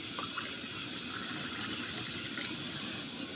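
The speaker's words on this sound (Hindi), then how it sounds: "साथ में ये इसमें मैं वाटर ऐड करूँगी" Water pours steadily into a glass of sweet sharbat drink, a continuous close splashing trickle with no talking.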